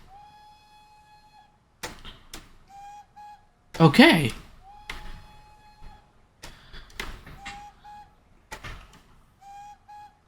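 Model railway whistle from LSWR engine 461, short tonal toots repeated several times at even intervals, with a loud clattering thump midway and brief speech.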